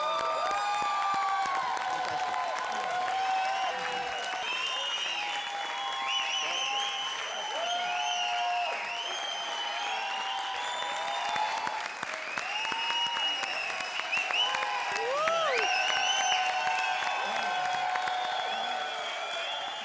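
Steady applause fills a comedy show studio audience, dense clapping with scattered cheers and whoops holding at a fairly even level throughout, while sung or spoken voices ride on top.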